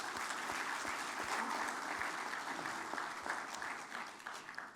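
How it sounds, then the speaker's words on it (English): An audience at an aviation stakeholders' convention opening ceremony claps steadily for Collins Aerospace, a dense, sustained round of applause from a seated crowd in an indoor hall. "we all give a round of applause to Collins Aerospace for"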